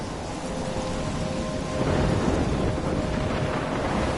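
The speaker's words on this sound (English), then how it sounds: "I'm trapped in a storm?" Thunderstorm with heavy rain in the Life is Strange video game: a loud, dense hiss of downpour with a deep thunder rumble swelling midway, continuous and without talk.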